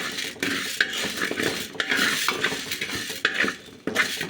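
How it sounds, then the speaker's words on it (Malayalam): Spoon or spatula scraping and stirring a handful of urad dal roasting in a metal pan for sambar powder, steady rustling with sharp clicks against the metal, close up and continuous. "അതിലേക്ക് ഒരു പിടി ഉഴുന്നുപരിപ്പും ചുമക്ക മൂപ്പിച്ച് എടുക്കണം"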